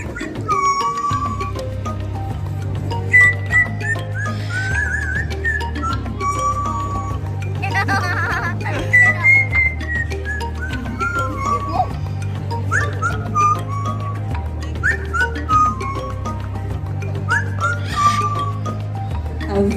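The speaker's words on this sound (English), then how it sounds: "Happy to hear you enjoyed his whistling." A parrot whistles a series of rising and falling melodic notes over a steady low rhythmic musical backing, with a short burst of other noise in the middle.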